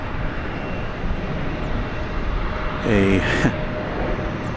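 An Embraer 175 jet arriving at DFW airport on a foggy morning gives a steady, distant engine roar under an ongoing voice, swelling slightly near the end.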